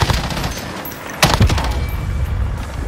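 Gunfire in the video game Warzone: a sharp burst of shots near the middle over a busy game soundscape, with rapid trailing cracks fading into ongoing background noise.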